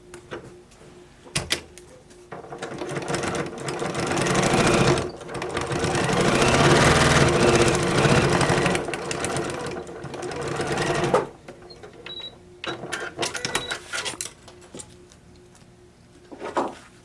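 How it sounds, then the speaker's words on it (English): A sewing machine stitches the last seam of a quilt block, a loud, even mechanical whir running in two long bursts with short pauses and small clicks and handling noises between them. "This is our last seam in the block, so let's just sew these together and see what it looks like."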